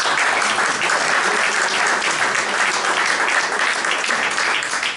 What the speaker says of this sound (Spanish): agradecería el esfuerzo del autor con un nuevo aplauso